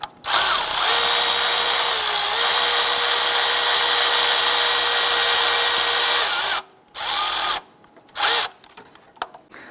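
Power drill driving a bolt into a water pump on a 2008-2013 Nissan Rogue, a loud steady whirring run for over six seconds that cuts out, then two short bursts of trigger pulls close by.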